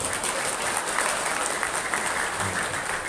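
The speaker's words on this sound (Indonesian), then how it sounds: "Mau tepuk tangan?" An audience at an Indonesian lecture by a professor breaks into continuous, even applause, a dense steady clatter of many hands at constant loudness from start to finish.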